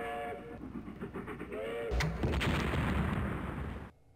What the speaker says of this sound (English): That's an explosion sound effects that's still used to this day.